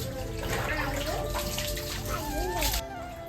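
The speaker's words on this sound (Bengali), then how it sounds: "আমিও ডোডোকে স্নান করাই অন্যদিন" Water sloshes and splashes steadily in a bathroom tub as a pet dog is bathed and paddles about, with a continuous wet wash of sound and faint voices in the background.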